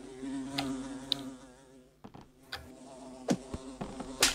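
A fly buzzing in the video game Slap The Fly, a faint wavering drone with brief louder passes and a few sharp clicks and thuds from the game.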